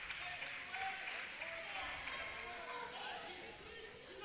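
Steady crowd murmur and scattered cheering fill a gym during a boys high school wrestling match against Holt, holding an even level throughout, with a faint announcer-like voice blended into the din.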